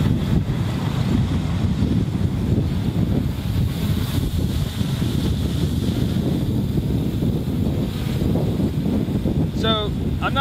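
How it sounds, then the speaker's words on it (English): Strong outdoor wind buffets the microphone in a constant loud, low roar while a Hubsan H501S drone is flown nearby, with a brief chirp near the end. "you can see it's pretty windy out here"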